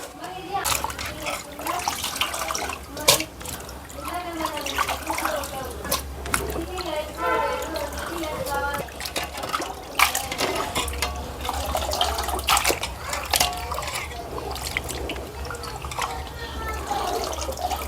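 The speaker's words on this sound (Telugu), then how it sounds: "ఇప్పుడు మంచినీళ్ళు పోసి రెండు మూడు సార్లు కడిగేసుకోవడమే" Fresh water is poured and splashed over cleaned nethallu fish in a bowl, giving close sloshing, pouring and dripping sounds while a person talks.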